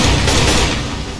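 Gunfire in a co-op shooter video game, a loud, dense burst of rapid shots and booms that fades slightly over a second.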